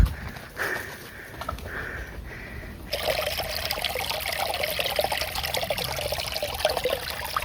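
Rainwater runoff after a morning shower trickles off a road, a steady watery flow that grows fuller partway through and continues alone with no talk.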